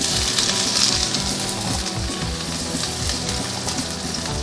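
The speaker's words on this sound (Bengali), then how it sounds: "এখানে 2 পলা তেল দিয়ে দিলাম এবং 4টা শুকনো লঙ্কা ভেঙে দিলাম" Four broken dried red chillies sizzle in a couple of ladles of hot oil in a kadai, a loud, close, continuous crackling fry with no talking.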